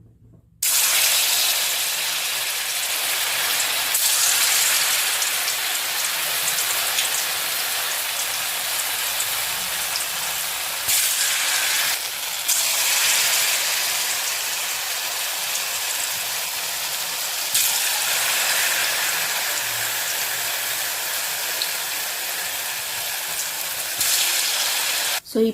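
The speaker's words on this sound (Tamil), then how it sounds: "பேனில் நல்லா எண்ணெய் காய வச்சு காஞ்சதும் நம்ம எடுத்து வச்சுருக்கோம் பார்த்தீங்களா, இந்த பால்ஸ் எல்லாம் அப்படியே கொஞ்சம் கொஞ்சமாக போட்டுடலாம்." Crispy dough balls fry in hot oil in a pan with a steady, dense sizzle and hiss that runs loud and unbroken for the whole stretch, dipping slightly now and then.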